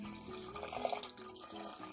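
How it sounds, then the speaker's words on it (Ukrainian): Cold water runs steadily from a tap into a cooking pot, a soft continuous trickle and splash, fairly faint and close, with no talking. "Заливаємо холодною водою."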